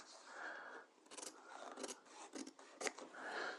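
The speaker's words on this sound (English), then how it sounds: "I'm going to trim back my center front." Scissors trimming back fabric at the center front of a garment neckline, a run of close, crisp snipping and rasping cuts in quick bursts with brief pauses, heard alone without talk.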